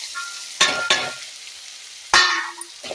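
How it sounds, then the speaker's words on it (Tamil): Onions and tomatoes sautéing in a pan for mutton masala, a steady sizzle broken by several sharp clangs and scrapes of a spatula against the pan. "வெங்காயம் தக்காளி நல்லா இப்போ வதங்கிடுச்சு"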